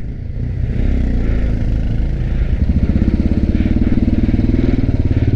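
A Pulsar motorcycle engine chugs and revs while the rider works through a tight, difficult turn on a mountain road. The pulsing exhaust stays close and loud, its rhythm quickening toward the end.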